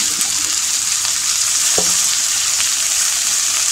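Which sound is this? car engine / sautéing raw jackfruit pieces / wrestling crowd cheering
sautéing raw jackfruit pieces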